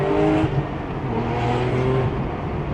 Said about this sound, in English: This car sounds like a lot of air moving and it's because of the turbos and how it's designed.